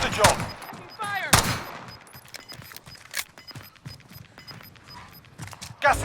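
Pistol shots ring out in a shooter video game, a few loud, sharp cracks spaced seconds apart over game ambience and voice chatter.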